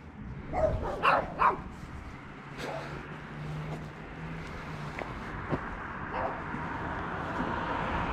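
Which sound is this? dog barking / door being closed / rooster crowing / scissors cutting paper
dog barking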